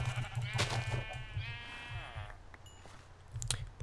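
Minecraft sheep bleating, a couple of close, wavering bleats in quick succession, followed by a quieter pause and a faint blip.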